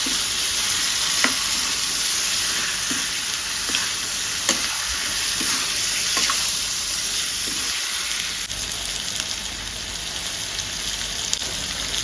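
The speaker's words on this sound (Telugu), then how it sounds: "ఒకసారి చూడండి చికెన్ ఎంత బాగా వేగుతుందో." Bone-in chicken fries in a pan with a constant, close sizzle dotted with occasional sharp pops and crackles, and no voices.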